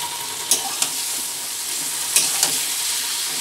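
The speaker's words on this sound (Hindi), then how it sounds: "अब मैं इसमें फोरन के बाद मैं इसमें चिकन को ऐड कर दूंगी।" Chicken frying in a pan after tempering, a steady close sizzle with four quick spatula scrapes or taps spaced across the clip.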